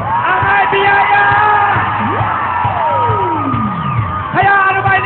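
A Filipino game show studio audience cheers, whoops and shouts loudly and continuously, with a host's voice and overlapping excited yelling rising and falling over a dense crowd roar.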